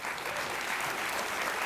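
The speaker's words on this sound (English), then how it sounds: "I think we'll applaud again now." An audience at a security conference gives a dense burst of steady clapping, loud and close and filling the whole moment.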